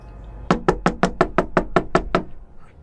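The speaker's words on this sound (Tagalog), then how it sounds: "Nagulat pa ito nang marinig niya ang padabog na katok mula sa likurang bahagi ng pintuan ng kanilang kusina." Ten loud, heavy knocks pound on a kitchen door in a steady, rapid rhythm, close and forceful, with no voices.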